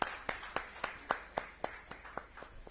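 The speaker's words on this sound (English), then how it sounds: "Let's give a round of applause for Mr. Sanjay Bansal joining us on stage" Sparse, separate claps ring out from an audience at a buyouts summit as a speaker joins the stage, about ten sharp hand claps spaced unevenly, fairly quiet and with no other sound.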